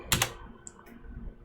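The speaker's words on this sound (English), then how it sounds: "I could start typing, it would buffer" Typing on a computer keyboard in a Java programming lesson: a quick burst of a few key clacks near the start, then a couple of faint isolated taps over quiet room tone.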